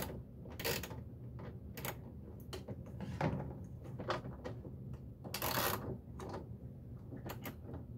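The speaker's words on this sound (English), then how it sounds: "I got my ratchet here, probably still, yep, set to take it off, but let's put it on" A hand ratchet tightens a nut while a washing machine is reassembled, producing close, sharp clicking in short irregular bursts with brief pauses between strokes.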